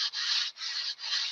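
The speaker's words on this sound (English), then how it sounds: "I'm angling my sanding bar here to" Three long, even rasping strokes of a sanding bar rubbed across the wooden trailing edge of a model airplane wing, close up, with brief pauses between each pass.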